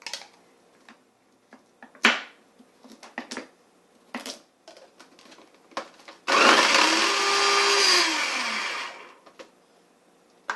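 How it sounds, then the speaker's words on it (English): A food processor whirs loudly for about three seconds while chopping carrots, preceded by scattered knocks and clatter of handling the machine and ingredients in a kitchen, no speech. "Boy, I like the food processors."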